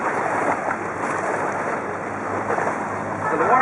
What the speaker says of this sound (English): just like the man-made waterfall that's coming up on the right